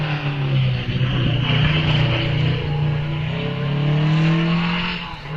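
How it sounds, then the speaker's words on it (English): A Riley TT Sprite replica race car pulls away from the start line at the Wiscombe Park hillclimb, its engine note revving strongly and rising through gears, loud and close throughout. "as the Riley leaves the start line"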